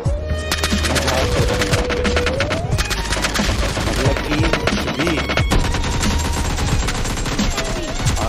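Dense, continuous bursts of rapid gunfire and explosions in PUBG Mobile Lite, loud and relentless with overlapping shots throughout.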